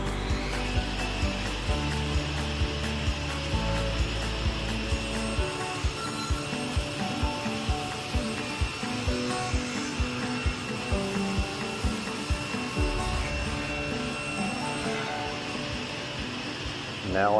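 A power saw with a T-Glide Advance fence runs steadily and loudly for the whole stretch, flush-trimming wood edging, its whine shifting slightly as it bites through wood, with faint rubbing and rattling underneath.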